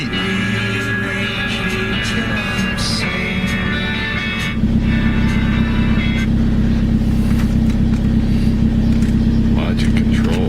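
A Toyota Corolla engine turns over and settles into a loud, steady idle rumble that fills the rest of the clip, with music and chatter running beneath it beforehand.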